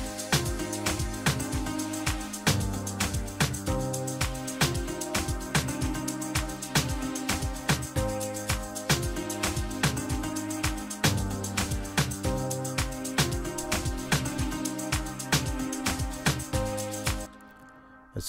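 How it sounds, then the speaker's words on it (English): Afro house track built on a studio grand piano with an added synth pad, dense repeating piano chords over a sustained pad and steady beat, continuous and full before cutting off near the end. "I had a studio grand piano, and then as you can hear, it sounds dope, and I added another pad."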